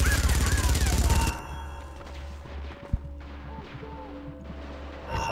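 Gunfire in Splinter Cell Conviction opens with a loud, rapid burst of shots. It then drops to quieter background rumble with one sharp isolated report, and the firing picks up again at the end.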